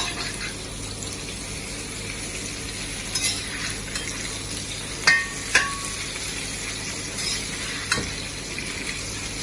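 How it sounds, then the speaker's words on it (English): Pork belly sears in a pan before braising, giving a continuous crackling sizzle with a few sharp pops and utensil clinks over a steady kitchen background. "we want to seal the pork up before we do any stewing"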